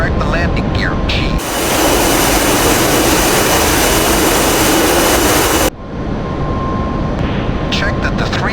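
Mechanical clunk and ratcheting of the F-5E jet's landing gear retracting in the DCS flight simulator, a sudden loud broad whoosh under steady jet engine roar that lasts several seconds, then cuts off abruptly.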